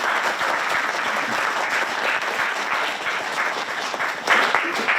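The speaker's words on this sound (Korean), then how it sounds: "박수 부탁드립니다." Sustained applause from a large audience at an artists' fair-finance vision declaration ceremony in Korea, dense and even clapping that swells slightly near the end.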